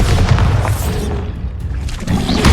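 A Bombarda explosion spell goes off in the Hogwarts Legacy video game: a loud, dense rumble of booms and blasts that fills the whole stretch, swelling again at the end.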